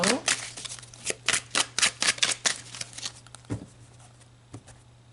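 Tarot cards being shuffled by hand, a quick run of crisp riffling bursts in a steady rhythm that thins out into a few scattered flicks, close up over a faint low hum.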